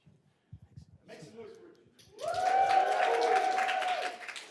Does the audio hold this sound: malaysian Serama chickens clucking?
no